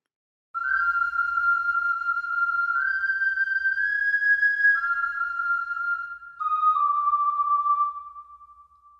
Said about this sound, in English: the ocarina makes its first appearance, doubling with the Irish whistle